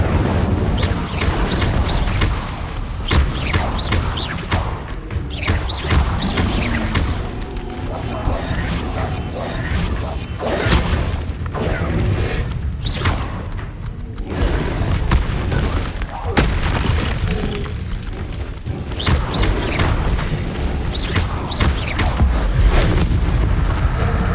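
Incendio fire spells in Hogwarts Legacy burst again and again as loud, booming blasts and crackles during combat, with a voice shouting over the chaos.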